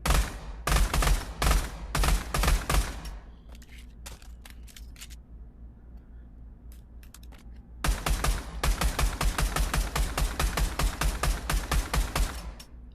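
Fully automatic gun firing in the VR shooter Pavlov, two loud rapid bursts of shots, the first dying off after about three seconds, then scattered single clicks before a longer sustained burst resumes near the end.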